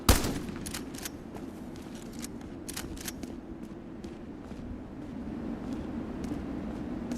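Sporadic video game gunfire, a series of sharp shots with uneven gaps between them over a constant low background hum, moderately loud and without talk.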